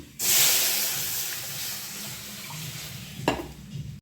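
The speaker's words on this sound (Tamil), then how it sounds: "கடுகு வெந்தயம் போட்டு தாளித்து ஊற்றிக்கலாம்" A sudden loud sizzle as mustard and fenugreek seeds hit hot oil, hissing steadily and fading slightly, with a brief metallic clink near the end.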